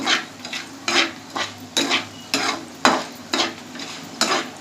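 Leftover rice and curry leaves stirred in a pan for Telangana-style karam rice: about ten rhythmic scraping strokes of a spoon against the pan over a soft sizzle, close and clear.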